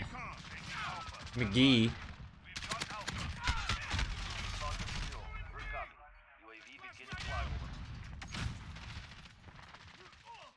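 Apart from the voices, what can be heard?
gunfire in the video game Rust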